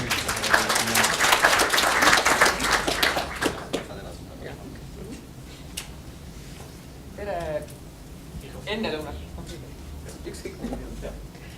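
An audience at a vocational education conference claps in welcome for a speaker, dense applause for about four seconds before fading to scattered claps and room noise, with a voice speaking briefly afterward.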